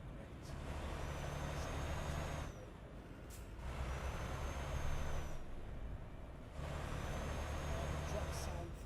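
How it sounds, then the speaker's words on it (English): Modded truck engine sound in the TruckersMP driving game, a steady mid-low drone that cuts out and resumes twice, with a short air-brake hiss between sections and no speech. "Truck sound thing there, James."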